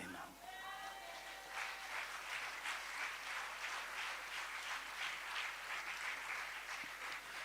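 Congregation applauding in church during a French-language worship service, steady sustained clapping filling the room, with voices over it.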